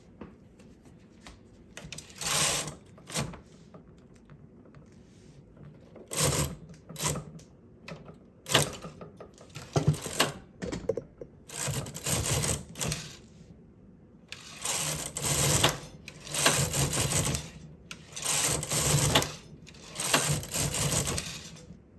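A knitting machine working lace pattern rows gives repeated mechanical carriage passes, each a rattling, clacking sweep of a second or so, separated by brief pauses, close and with no talk.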